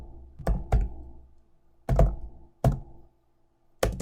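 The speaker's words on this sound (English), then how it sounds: "So if I load up PowerShell, as it's called now, and go ipconfig." Single keystrokes are typed on a computer keyboard in a quiet room, with five hard, separate clicks at irregular spacing and near silence between them.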